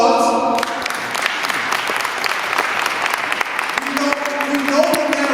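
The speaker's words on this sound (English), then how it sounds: "Give him the applause." Audience at a gun violence prevention conference in Chicago applauds: dense, steady clapping fills the room throughout, loud and sustained, with faint voices mixed in.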